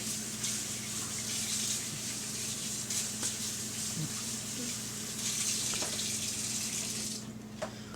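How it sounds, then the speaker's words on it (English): Cold water runs steadily from a kitchen tap while hands are washed of sticky bread dough, a close continuous hiss and splash with faint clinks, ending abruptly near the end. "that's where you turn on a little bit of cold. You're going to wash your hands real good, because that bread dough is sticky."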